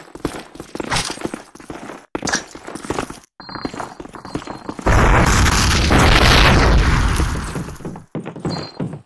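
Grenade explosion in Call of Duty on the Dawnville or Germantown map, a loud, sustained boom lasting several seconds after a stretch of clattering footsteps and gunplay, then fading back to scattered action.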